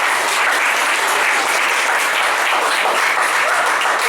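A lecture audience breaks into steady, dense applause right after a talk ends, filling the room with sustained clapping from start to finish with no voices on top.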